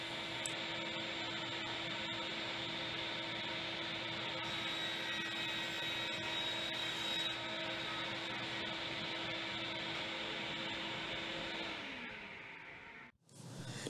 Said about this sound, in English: Here I'm using my crosscut sled to cut down the 1x12 by 6 foot pine board into manageable pieces